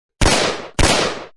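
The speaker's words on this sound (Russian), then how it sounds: "Прогремели пистолетные выстрелы." Two sharp pistol shots fired in quick succession, each a loud, abrupt crack with a short ringing tail, close and alone against silence.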